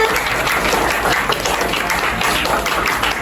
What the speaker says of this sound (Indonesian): Beri tepuk tangan yang meriah untuk kakak-kakak panitia.